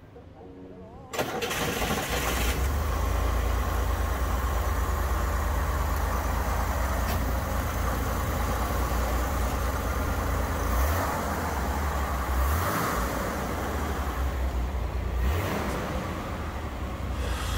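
A 1963 Chevrolet Corvair engine cranks and catches just after a second of quiet, then settles into a loud, steady, rumbling idle close by for the rest of the clip, with occasional voices in the background.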